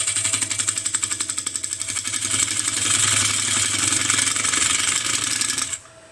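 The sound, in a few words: woodturning lathe, parting tool cutting wooden yarn bowl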